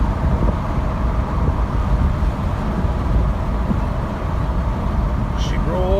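A 1994 Cadillac Sedan DeVille with a 4.9 V8 and almost 200k miles pulls away in a gentle launch, heard from inside as a steady low engine rumble with road noise and a faint squeak near the end.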